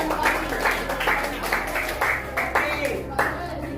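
A classroom of seventh-grade madrasa students claps for two classmates during an Islamic ethics lesson, a brisk round of hand claps carrying on steadily for several seconds with a few voices mixed in.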